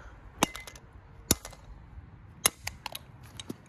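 An earbuds box takes several sharp impacts as it is smashed apart, with a few loud cracking hits spaced out over a quiet background, followed by lighter clicks and taps.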